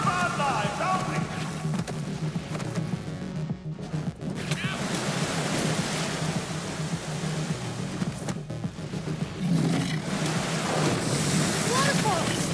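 A waterfall in Minecraft Story Mode Season 2, Episode 4, roars as a steady, loud wash of rushing water. It continues unbroken with only small swells in level.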